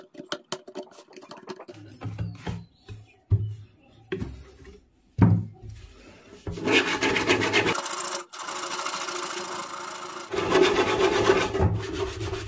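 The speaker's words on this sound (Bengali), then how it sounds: "এবার একটু ঘষে মসৃণ করে নেওয়া হবে।" Wood being rubbed and rasped smooth while a dotara is made by hand, starting with scattered knocks and short strokes, then settling into longer, steady scraping passes close by.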